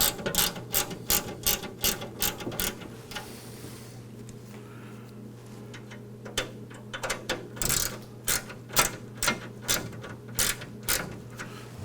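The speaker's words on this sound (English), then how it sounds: "we're just going to tighten up these screws now" Screws are tightened on a Bakers Pride P-46 countertop deck oven after its stone is installed, a series of quick ratcheting clicks in two bursts with a short pause between.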